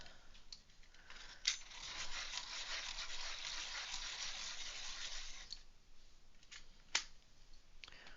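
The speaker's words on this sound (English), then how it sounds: "Sharpen this again." Close, quiet scraping of a colouring pencil being sharpened, a continuous rasping rub lasting several seconds with a few sharp clicks before and after, no talk.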